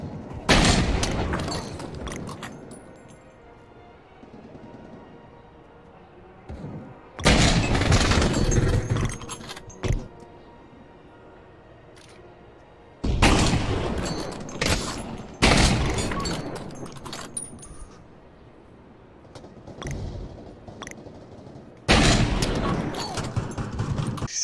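Heavy .50 caliber rifle shots in the Pavlov VR shooter, several loud booming reports spaced a few seconds apart, each cracking sharply then ringing out over a quieter background.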